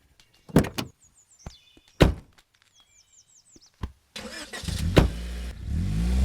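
Car doors open and shut with heavy thunks, followed by a car engine cranking and starting, then idling with a low rumble as people climb into the vehicle, close up and without speech.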